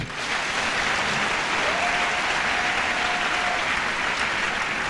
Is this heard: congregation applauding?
yes